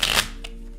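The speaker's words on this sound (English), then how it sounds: "I've been doing quite a bit of deck shuffling here" Tarot card deck riffled in a brief, close, crisp rush of shuffling, followed by a faint second flick and quiet, with no talk.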